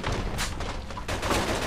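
Rapid gunfire in the crime video game Mafia II, a quick burst of loud shots in two close clusters against a noisy game backdrop.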